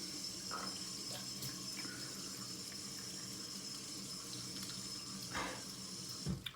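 Shaving cream rinsing off under a running tap gives a steady, fairly faint flow of water into a sink, with a few brief splashes near the end.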